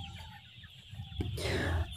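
Fayoumi chickens clucking on a farm, with a faint tonal hum first and then a short burst of close clucking and scratchy rustle near the end.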